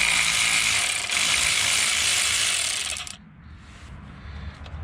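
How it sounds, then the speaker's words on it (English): An electric ratchet spins off exhaust manifold nuts on a Nissan Altima 2.5L, with a loud, close, continuous high buzz for about three seconds before it cuts off, leaving quieter clatter. "I'm going to use my electric ratchet and get these off."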